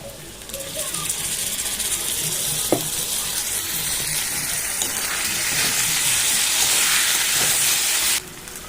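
Tomatoes go into sizzling fried onions in a pan for a tarka, a loud close hiss that swells midway, with a clink and brief voice before the sizzle cuts off near the end.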